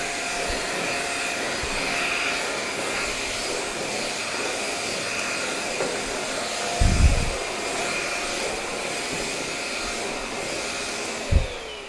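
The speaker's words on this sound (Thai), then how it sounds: "เก็บเหมือนไม้กวาด แต่ว่าดูดฝุ่นได้" An Anitech SVC-6004 600W vacuum cleaner runs with a steady, close, airy whine, broken by a couple of short low thumps toward the end.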